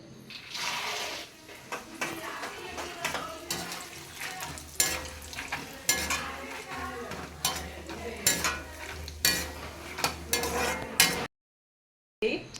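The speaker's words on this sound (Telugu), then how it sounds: "ఇప్పుడు లాస్ట్ పల్లీలు అనమాట" Peanuts frying in oil for a street-style mixture snack, a continuous crackling sizzle with regular scraping and clinking of a ladle against the pan, close up, ending in a short silence.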